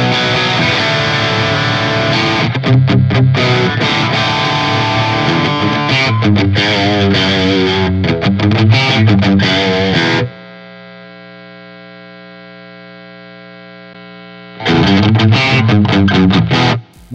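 A high-gain, heavily distorted electric guitar plays through a Guitar Hack impulse response and a Marshall JCM amp. Chugging riffs and sustained chords ring loud and close, then a long held chord fades before the riffing returns.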